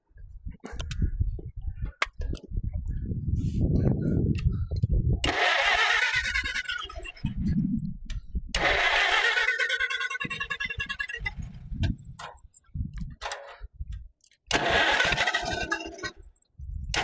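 An antique tractor engine cranks and catches several times, sputtering and revving in loud bursts with pauses between, close by and heard alone.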